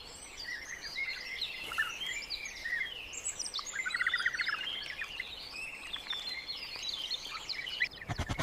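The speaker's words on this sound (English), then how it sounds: "Chirping bird sounds." Birds chirp and trill at dawn on the African savanna, a busy chorus of small calls scattered continuously at moderate distance, with a faint rustle and a brief knock near the end.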